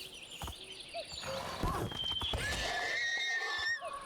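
Several horses neighing and whinnying in modded Minecraft, a few overlapping calls near and loud over a busy game background with footstep-like thuds, no talk.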